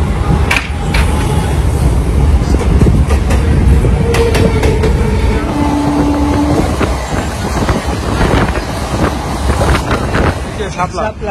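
Steady rumble and rattling clatter fill the inside of a passenger train travelling toward Namkhana, loud and continuous throughout, with people's voices mixed into the noise.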